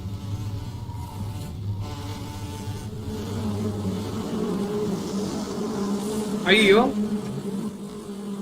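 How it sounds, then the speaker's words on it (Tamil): Hornets swarming in Metal Gear Solid 3: Snake Eater make a wavering insect buzz over low game hum, with a sharper close pass near the end, while someone talks and exclaims over it. "ஹார்னெட்ஸ் பீஸ் கிடையாது அது"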